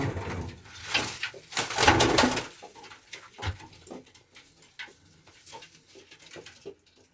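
Soft coos and fluttering sounds of Pakistani and Iranian pigeons come in bursts, louder at first and then quieter, with some rustling between them.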